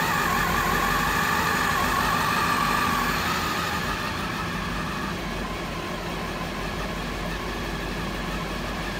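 An engine running steadily during carburetor and throttle body synchronization, a constant droning idle with a rough low rumble that eases slightly partway through, heard close and alone.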